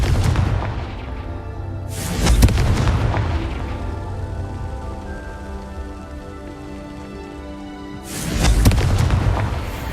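Confringo fire spell blasts in the Hogwarts Legacy video game: two loud booming explosions several seconds apart, each a sharp broadband burst with a rumbling tail, over a continuous crackling, rain-like background bed.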